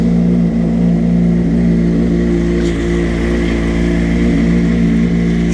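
A 2003 Honda CBR 600RR motorcycle engine runs at a steady, loud idle after startup, a constant low droning hum with no talk over it.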